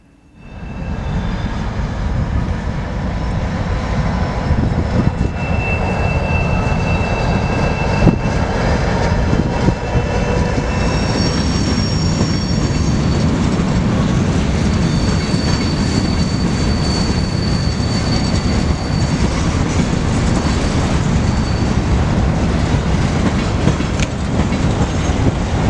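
A local freight train led by a switcher locomotive rolls out of the yard in Galesburg, Illinois, with a short cut of cars. Its loud, steady engine drone and rumble build quickly and hold throughout, with occasional high squeals.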